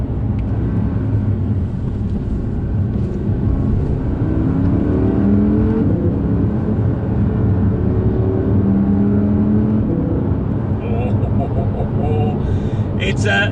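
An Audi R8 RWD supercar accelerates with a continuous loud engine roar and rising revs. Someone talks over the sound throughout.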